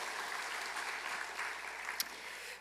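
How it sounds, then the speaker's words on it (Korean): A church congregation at a Thanksgiving Sunday service claps in welcome, a soft, distant, even patter of many hands with one sharper sound near the end, fairly quiet throughout. "환영의 박수로 축하하겠습니다."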